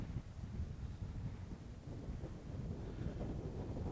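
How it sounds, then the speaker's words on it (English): Wind buffeting the microphone of a CarbonBird SkyHunter RC plane in flight, a constant loud low rumble and roar that stays steady throughout with no talking. "Fair bit of wind."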